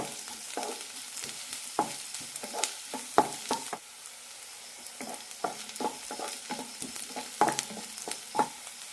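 Small shallots sauté in a pan until translucent for a drumstick stew, making a soft, low sizzle punctuated by frequent sharp spatula taps and scrapes close by.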